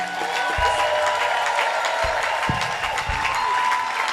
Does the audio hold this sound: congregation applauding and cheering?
yes